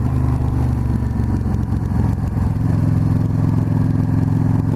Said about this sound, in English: So slowing down now to clutch into downshift, flip that throttle to match the revs.